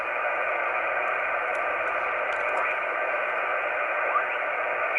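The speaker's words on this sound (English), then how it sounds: "it's just terrible with the noise that I have here in 20 meters" Steady hiss of static and band noise on the 20 meter amateur radio band through an Alinco DX-70T all-mode transceiver, continuous and fairly loud with faint chirps drifting through and no clear station.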